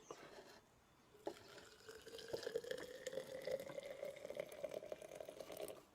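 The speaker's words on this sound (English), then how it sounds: "So I'm going to add my hot water to it." Hot water pours steadily into a bottle, a gentle liquid stream whose pitch rises slowly as it fills, after a brief quiet start.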